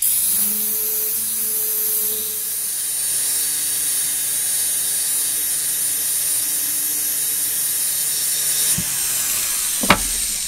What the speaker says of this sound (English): These sanding discs work really good